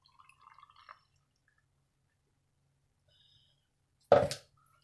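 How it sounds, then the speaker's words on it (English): Water poured into a jar of leca clay pebbles holding a plant, one short splashing pour after a quiet pause, preceded by faint handling clinks. "And then I'm going to add some water to her."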